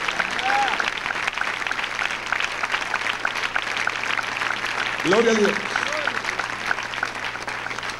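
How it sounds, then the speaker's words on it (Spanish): A church congregation claps steadily and loudly throughout a worship service, with a voice calling out over the applause. "Dale un aplauso al Rey con todo su corazón."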